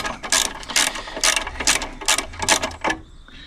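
A ratchet wrench clicks in rapid bursts while a long bolt is loosened on a Royal Enfield 350 motorcycle, about seven close, sharp ratcheting strokes in an uneven rhythm before falling quiet.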